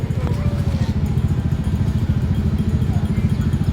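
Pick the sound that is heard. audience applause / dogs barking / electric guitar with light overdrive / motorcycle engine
motorcycle engine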